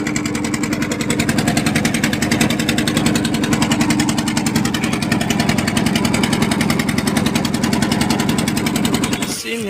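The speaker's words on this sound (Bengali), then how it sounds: "মানে নয়াহাটে যাচ্ছি নৌকায় করে।" A motor boat engine runs during a river crossing, producing a loud, steady, rapid chugging pulse that persists almost the whole time before cutting off abruptly at the very end.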